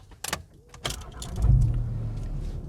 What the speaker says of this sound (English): let me start the car up because I'm sweating